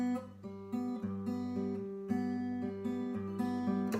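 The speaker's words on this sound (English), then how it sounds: "Now the other rhythm, we'll use the exact same notes, and it sounds like this." Acoustic guitar fingerpicking a rhythm pattern, with clear repeated plucked notes in a steady bouncing rhythm, close and moderately loud, no talking.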